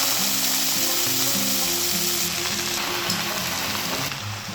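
Coriander and mint leaves fry in hot oil in a pan, giving a steady, close, continuous sizzle with soft stirring scrapes. It fades slightly toward the end, and no one speaks.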